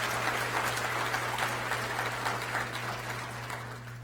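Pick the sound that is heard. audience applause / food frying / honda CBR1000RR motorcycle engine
audience applause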